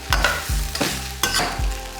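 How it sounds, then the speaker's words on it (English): Vegetables being folded through stir-fried noodles in a hot pan, with a rhythmic series of about four low thumps and scrapes over a continuous close sizzle. "And then kind of folding the vegetables through"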